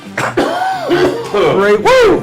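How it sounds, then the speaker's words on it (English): A single man's throaty cough bursts out, followed by rough, laughing vocal sounds, all close and loud. "Don't like to hold in a cough."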